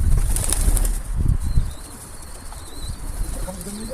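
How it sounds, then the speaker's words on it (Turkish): A bird's wings flap sharply as it takes off, a brief burst of flutter amid outdoor background noise, with faint cooing nearby. "Oradaki kuş da kalkmış."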